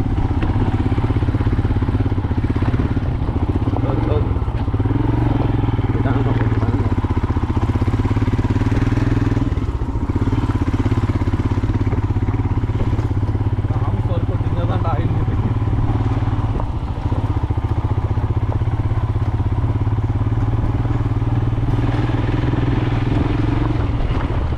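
A motorcycle carrying two riders on a rough trekking road to Bandage Falls in Chikkamagaluru, its engine droning steadily and loudly throughout with rattling and road clatter, close to the microphone and without pause.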